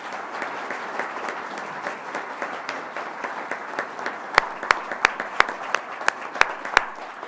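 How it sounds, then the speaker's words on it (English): Audience applause at a student awards program, a soft continuous patter of clapping with a few sharp, nearby hand claps standing out in a regular rhythm toward the end. "Let's give everybody a round of applause."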